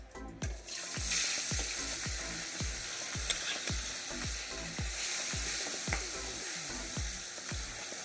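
Bata fish fry in hot oil for a Bengali village dish, a steady bright sizzle with regular soft thuds of stirring or turning, close and with no talk.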